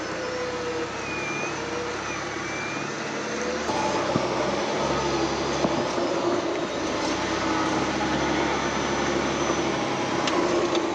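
A Ford F-150 or F-250 pickup's engine idling and pulling under gentle throttle during a winch recovery up a snowy, muddy hill, giving a steady, continuous drone that swells slightly midway, with no talking.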